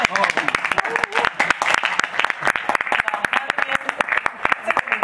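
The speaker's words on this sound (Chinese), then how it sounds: "听到东北团怎么没有掌声鼓励一下？" Audience applause at a university club's annual review gathering, a dense burst of many hands clapping continuously and fairly loud, with voices mixed in underneath.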